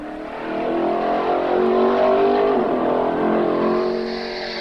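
Drag car launching on its first run after a burnout, a loud engine roar that builds and holds with rising pitch, then eases slightly as it pulls away, no speech.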